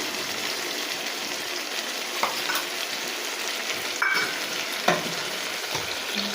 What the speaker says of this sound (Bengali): ভালো করে আরও কষতে হবে এবার দিয়ে দেবো টমেটো কুচি